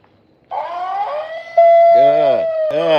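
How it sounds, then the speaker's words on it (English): An electronic alarm wails with a steady tone that rises into repeated swooping siren sweeps, loud and close, starting abruptly after a quiet moment and continuing to the end. "Is the alarm set?"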